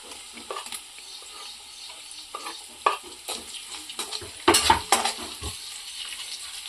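Potato pieces added to a pan of browned onion for poha fry and sizzle, with repeated stirring scrapes and clinks of a utensil against the pan, nearby and moderately loud, no talking.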